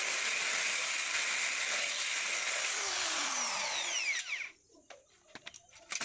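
A power drill bores holes in a metal speaker frame, a loud, steady whine held close for about four seconds before cutting off, followed by a few light clicks and taps.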